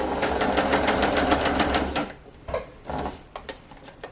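A sewing machine stitches stretched elastic onto fabric to gather it, running in a fast steady mechanical rattle that stops after two seconds, followed by a few scattered clicks and handling noises.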